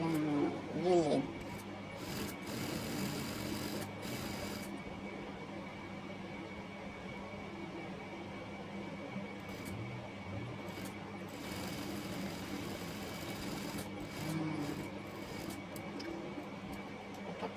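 Sewing machine stitching both sides of a dress strap, a low continuous hum heard steadily throughout at a moderate level, with some talk over it.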